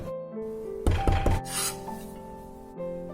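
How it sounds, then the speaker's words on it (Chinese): Knife mincing ginger on a cutting board, a quick cluster of sharp chops in the middle over a steady tonal hum of background music, with one more soft tap near the end. "切点姜末"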